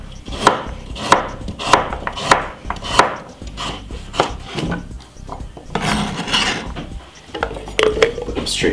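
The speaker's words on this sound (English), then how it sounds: "I have 2 medium-sized carrots. Remove the skin, and what I'm gonna do is cut them up very small." A knife chops two peeled medium carrots into small pieces on a board, with evenly spaced crisp strikes at first, then quicker, irregular cuts and scraping, close up with no voices.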